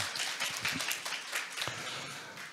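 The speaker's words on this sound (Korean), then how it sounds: "박수 한번 부탁드립니다." Audience applause after a correct quiz answer at a Hyundai corporate talk event, steady moderate clapping from a small crowd filling the whole stretch without speech.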